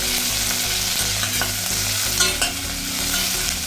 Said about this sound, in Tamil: கடுகு பொரியிட்டோன்னு கொஞ்சம் வெந்தயத்தையும் போட்டு அது கூட வெங்காயத்தையும் போட்டு நல்லா வதக்கணும்.